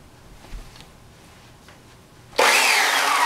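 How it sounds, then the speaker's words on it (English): A chainsaw suddenly roars to life after a near-silent pause, then runs loud and steady at close range. "Chainsaw."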